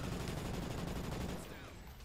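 Light machine gun fire in Call of Duty Ghosts Extinction, a dense, continuous burst of rapid shots with a low rumble, steady for over a second before tapering off.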